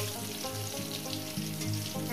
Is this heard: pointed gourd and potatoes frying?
yes